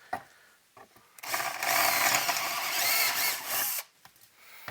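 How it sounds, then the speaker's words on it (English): A power drill with a 3/8-inch bit bores through material for a few seconds, a loud steady whine close by, starting and stopping abruptly. "when you're drilling holes like this, don't put a lot of pressure down"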